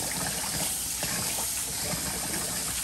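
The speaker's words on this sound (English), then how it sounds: "wash your rice" Rice is rinsed by hand in a bowl of water, ahead of making pineapple shrimp fried rice, giving a steady, close sloshing and trickling wash of water that runs unbroken with no voices.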